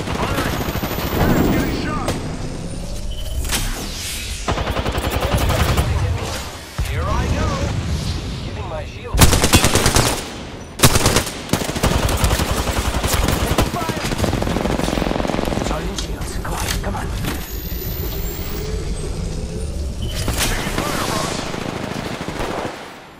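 Gunfire rattles through an Apex Legends Season 7 match, with dense automatic bursts, single shots and blasts. It is loud and almost constant, and in-game character voice lines cut in now and then.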